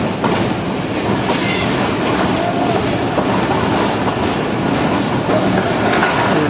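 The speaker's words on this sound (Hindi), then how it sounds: "एक प्लेटफॉर्म नंबर 2 पर लग रही है हमारी ट्रेन आज की" Pak Business Express passenger train at a station platform, a steady loud rumble with clickety-clack of wheels and rail noise filling the whole stretch, no voices.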